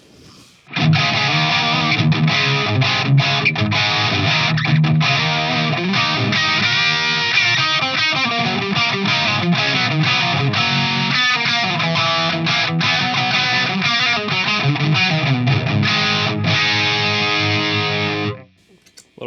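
A distorted electric guitar plays a continuous, loud riff through a Friedman IR-D amp with its boost engaged, full and driven from start to finish before cutting off abruptly.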